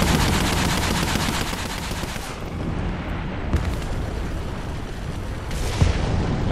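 T-34 tank combat in War Thunder, with rapid machine-gun bursts rattling almost nonstop and heavy cannon shots booming out a couple of times, loud and close, with no voices.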